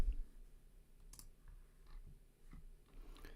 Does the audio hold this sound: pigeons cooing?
no